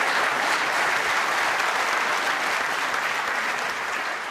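The Crucible crowd at a World Championship snooker semi-final applauds warmly and steadily, a dense, sustained clapping that fills the whole stretch and eases slightly at the end.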